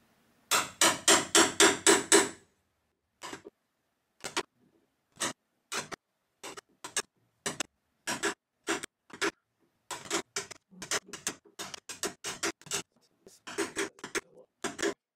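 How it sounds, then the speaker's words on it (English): A chisel is struck again and again while cutting a notch for a door handle: a quick burst of close, sharp taps, then scattered single and paired knocks at an uneven pace. "I'll chisel that out."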